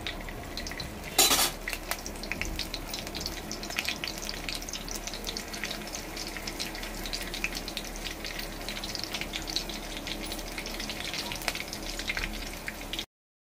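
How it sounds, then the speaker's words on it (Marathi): Curry leaves fry in oil in a wok for a red chickpea usal, a steady close crackling sizzle lasting throughout, with an early clatter of utensil against pan and no talking. "कढीपत्ता चांगला आपण त्याच्यात फ्राई करून घेऊया तेलामध्ये"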